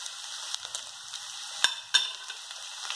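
Potatoes for aloo jeera fry in a pan on medium heat, with a continuous soft crackling sizzle broken by two sharper scrapes of a stirring spoon.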